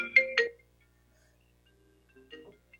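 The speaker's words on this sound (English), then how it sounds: "You hear my phone, I'm sorry, I can't figure out how to turn it off." A mobile phone ringtone goes off during a city planning commission meeting, two short bright tonal bursts near the start, then a quieter melodic phrase returning near the end after a silent gap.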